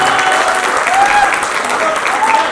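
Steady applause from a crowd, continuous clapping at even loudness with no break, a few voices faintly mixed in.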